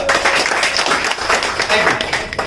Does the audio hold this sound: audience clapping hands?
yes